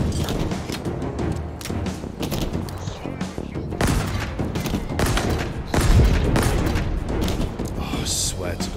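Gunfire in the Halo Infinite video game: dense, loud bursts of automatic shots and booming blasts rattle on without pause, with a voice shouting over the barrage.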